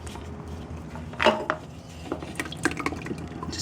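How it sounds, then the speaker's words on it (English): Motor oil drains from a 2002 Ducati Monster 620 into an oil pan: scattered drips, trickles and light metallic taps come close at hand, with a brief louder splash partway through. "Just dump it in there, let it kind of drain itself"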